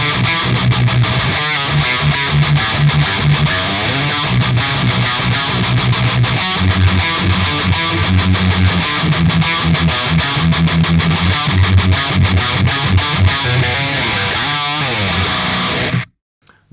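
A heavily distorted electric guitar improvises a metal line in the natural minor scale, loud and sustained with fast picked notes throughout, stopping abruptly near the end; no voices.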